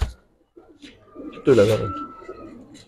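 Chuithal pigeons give a short burst of throaty cooing in the middle, close and fairly loud, with speech before and after.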